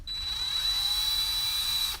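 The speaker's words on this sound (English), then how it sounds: "I've actually stuck a round file inside my cordless drill" A cordless drill spins a round file in reverse with a steady, loud, high-pitched whine that runs evenly for about two seconds, starting and stopping abruptly.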